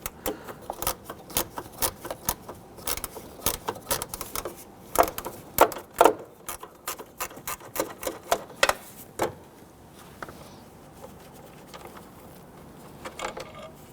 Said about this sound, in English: So I'm just using my gear wrench on this here.